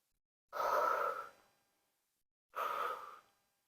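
Two separate heavy, breathy exhalations with a gap between them, close to the microphone and with no talking, as a person breathes hard through the repetitions of a bodyweight exercise aimed at the back, posture, ankles, knees and hips.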